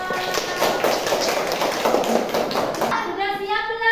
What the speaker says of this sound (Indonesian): Tepuk tangan untuk Salwa.